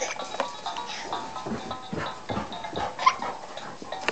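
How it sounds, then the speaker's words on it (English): A dog scrabbles and pants excitedly nearby, with short yips and whimpers amid busy scuffling; a person speaks briefly in the background. "That's the doggy being crazy"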